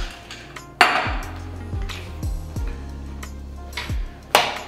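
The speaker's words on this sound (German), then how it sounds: "dann Hammer und dann verhauen wir das züchtig zu kleinen Eiswürfeln" Ice crushed in a cloth with a hammer for an Ipanema cocktail, a series of sharp knocks with dull thuds spaced irregularly, close and fairly loud, with no talk.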